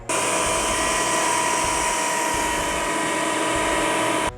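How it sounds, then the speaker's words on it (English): A thickness planer feeds 2x6 boards through, giving a loud continuous high whine with a steady roar for about four seconds, then cutting off abruptly. "we're going to take these and put them through the planer to clean them up"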